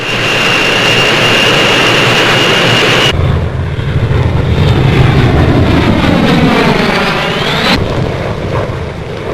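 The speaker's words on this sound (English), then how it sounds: "Following the light aircraft comes the mighty Victor, Britain's latest jet bomber." A Handley Page Victor jet bomber roars past at a 1953 RAF Coronation Review flypast, a loud sustained jet roar whose pitch sweeps downward as it passes close overhead, with no voices.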